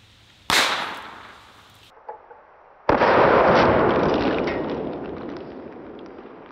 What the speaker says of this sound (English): I just want to see what it looks like in slow motion when you set off a shotgun shell outside of a firearm.